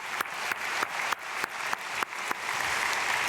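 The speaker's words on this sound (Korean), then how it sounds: "박수로 축복하겠습니다." Congregation applauding during a church dawn prayer service, a fairly soft, sustained clapping with evenly spaced, rhythmic sharp accents running through the whole stretch.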